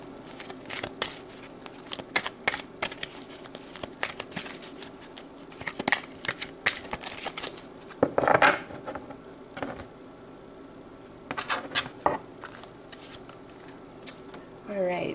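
Tarot cards shuffled and a card drawn, giving a quick papery riffling and snapping with short crackly bursts, close and fairly quiet, over a soft room background with a faint voice now and then.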